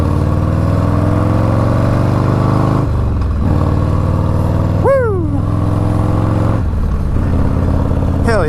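A Harley-Davidson Low Rider S motorcycle idles close by with a deep, loping exhaust note, broken by a few brief rising blips and shifts in pitch.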